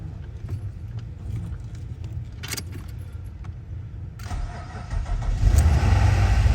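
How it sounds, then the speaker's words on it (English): A 2006 Nissan Altima fitted with a new ignition lock is started up: keys jangle and click in the ignition, then the engine cranks and catches, settling into a steady close idle with no talking. "Alright, car starts."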